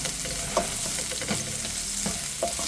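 Onions sizzle in hot oil in a pan for chicken binakol, a dense continuous hiss close up, punctuated by a few soft scrapes of the spatula as they are stirred.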